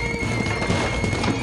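Horse hooves clip-clopping in the game Identity V, a steady patter of hoofbeats under a continuous game soundscape with occasional neighs, moderately loud and without talk.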